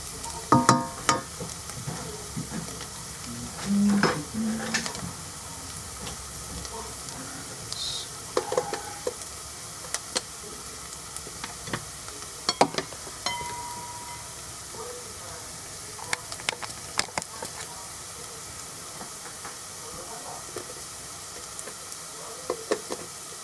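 Onions fry in a pan, a steady soft sizzle under intermittent sharp clinks and scrapes of stirring, close and continuous.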